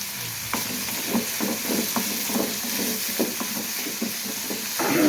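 Shrimp fry with salt in a pan, a steady sizzle broken by rhythmic scraping strokes as the pieces are stirred by one hand, close and moderately loud, with no talking.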